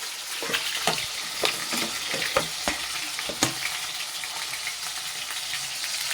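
Potatoes frying in very hot oil, with spices, salt and turmeric added, give a close, steady sizzle broken by sharp scraping stirs and clacks of a utensil against the pan.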